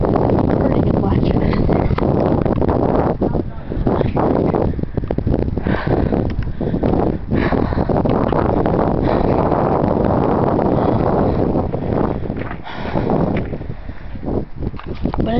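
Strong wind after a blizzard buffets the microphone in a loud, continuous roaring rumble that barely lets up, with a muffled voice partly buried beneath it.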